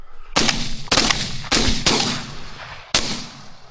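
Five sharp shotgun blasts spaced about half a second to a second apart while hunting wild pigeons outdoors, each a loud crack with a decaying tail.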